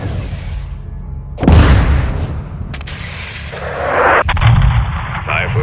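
A rocket in the video game Call of Duty: Modern Warfare II strikes with a sudden heavy boom. Rumbling battle noise and further thuds follow.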